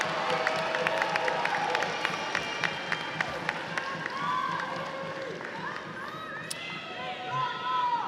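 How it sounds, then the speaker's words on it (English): A high school graduating class cheers and claps in a large stadium at commencement, with crowd noise, whoops and scattered shouts building over a steady roar of applause. "give your village, a huge round of applause"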